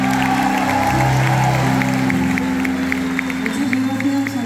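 Concert audience applauding and cheering for a singer, a steady wash of clapping with distinct sharp claps. Sustained low tones sound beneath it.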